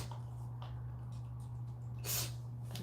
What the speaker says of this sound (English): Let me spray my face a little bit so we can fix this stuff down.